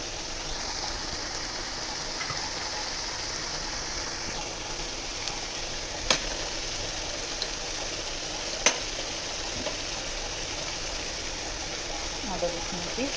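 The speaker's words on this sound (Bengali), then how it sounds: "এবার ভেজে নেবো ভালো করে।" Steady hiss and sizzle of chicken frying in a pan for a ghee roast, continuous and close, with a couple of sharp utensil clinks and scrapes.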